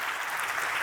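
Audience applause at an annual banking strategy conference, a brief steady wash of many hands clapping, fairly loud with no voices.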